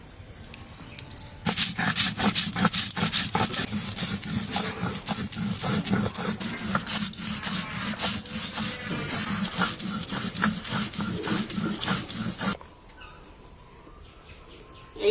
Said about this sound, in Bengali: আস্তে আস্তে আমি মশলাটা বেটে নিই সর্ষে সাদা সর্ষে আর কালো সর্ষে